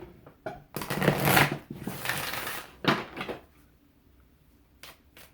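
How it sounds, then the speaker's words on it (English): Oracle cards from a Natural Enchantments deck being shuffled by hand, a close papery riffle and slide that comes in a few bursts, loudest in the first two seconds, then brief softer taps and rustles. "I'm going to shuffle and pull a few from the Natural Enchantments deck."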